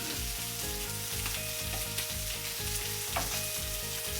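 Leftover steak hash sizzles steadily in a hot pan as it is tossed around, with a close, constant fry and occasional scraping clatter, under faint background music.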